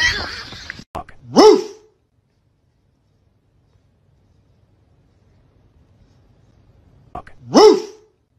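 Two sharp, isolated barks from a dog, about six seconds apart, each loud and close, with near silence between them.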